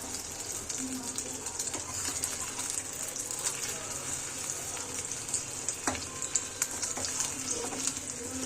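Food fries quietly in a home kitchen pan, a soft steady hiss with faint clinks and scrapes throughout, no talking.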